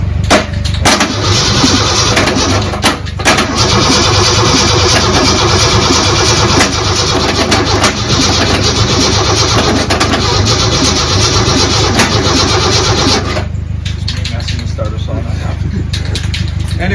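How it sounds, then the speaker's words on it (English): A Ford Bronco II engine cranking and turning over, loud and close, a sustained rhythmic churning over more than ten seconds that stops abruptly near the end, leaving a quieter shop background. "We're here ready to crank the engine."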